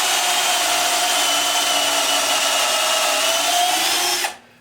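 A power drill bores a pocket hole into wood through a MulWark Premium pocket hole jig, running at a loud, steady pitch for about four seconds before cutting off abruptly.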